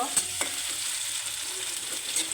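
Continuous close sizzle of spicy vegetable bhaji frying in oil, with a few light knocks of a spoon stirring it through the pan.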